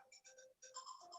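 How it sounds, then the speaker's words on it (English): A mobile phone ringtone plays in short melodic bursts, two groups of chiming tones separated by a brief gap, moderately faint with no talk over it. "that's my phone ringing."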